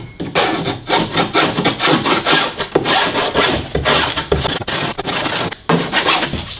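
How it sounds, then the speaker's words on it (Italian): A hand file rasps across a wooden frame part for a model mountain layout, a steady run of rough back-and-forth strokes, close and loud, with brief pauses and no talking. "Gli diamo un colpo di lima."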